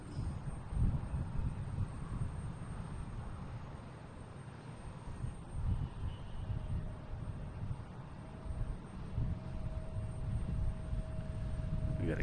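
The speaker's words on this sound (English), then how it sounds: "We got a JetBlue heading to Denver, an A220," A JetBlue Airbus A220 airliner departs Boston Logan International Airport for Denver, heard as a steady, moderately distant jet roar with wind buffeting the microphone throughout.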